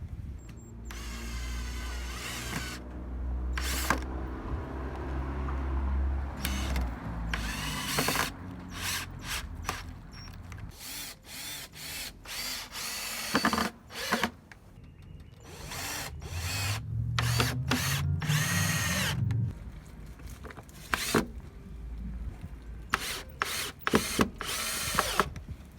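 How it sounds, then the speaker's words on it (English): Cordless power drill driving screws into the corners of a wooden raised garden bed, with repeated short whirring bursts, some longer runs, ratcheting clutch clicks and tool handling between screws, fairly close. "So we'll just take some screws and put 2 screws in each corner"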